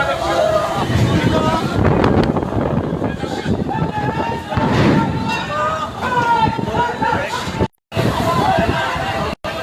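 Storm wind roars and buffets the microphone at a Chandpur river launch ghat as a passenger launch is caught in the storm, with a continuous loud rushing broken by two brief dropouts and distressed voices and crowd noise mixed in throughout.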